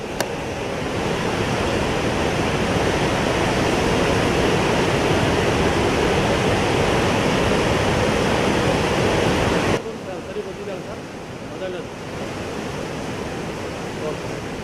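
Water roars through all 22 open gates of the Tunga reservoir dam near Shivamogga, releasing about 24,000 cusecs: a loud, continuous broadband rush that drops slightly quieter partway through.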